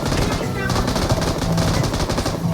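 Rapid bursts of automatic gunfire rattle continuously in a PUBG match, dense and fairly close, with game ambience underneath and occasional voices.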